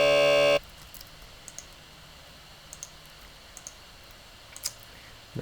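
A brief loud synthesized note opens, then computer keyboard keys used as a music emulator click faintly and sparsely in a quiet room, with light scattered taps.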